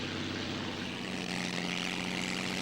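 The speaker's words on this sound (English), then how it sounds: "It was a reconnaissance aeroplane, never carried any armament." Propeller-driven reconnaissance aeroplane replica flying past at the RIAT 2003 airshow, a steady droning engine hum with a low tonal buzz, fairly distant and constant throughout, no voices.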